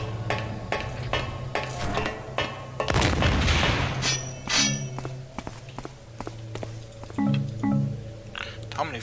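A bomb being destroyed in the video game Thief 2, a broad noisy burst near the middle of the clip, loud and close, with clicks and footsteps before and after it.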